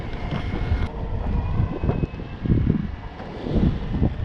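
Outdoor wind buffets a microphone in a steady low rumble with gusting surges and dips, rough and close, with no speech over it.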